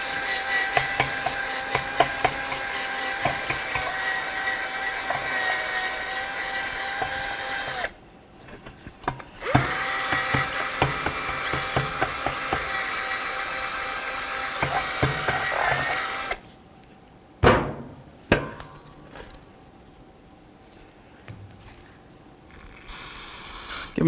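Power drill spinning a caliper bore brush to clean debris out of the ports of a Nissan Pathfinder brake caliper; steady whirring in two long runs with a short pause between, then brief bursts and quiet stretches.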